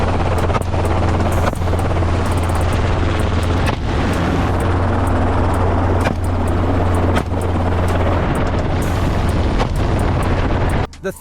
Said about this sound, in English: Twin-engine helicopters are commonly used for this purpose, allowing hunters to cover large areas and spot feral pigs easily.